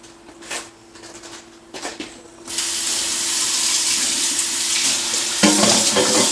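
A kitchen tap starts running after a few quiet knocks, and water pours steadily over an item being rinsed, splashing louder near the end. It stays close and continuous, with no voices.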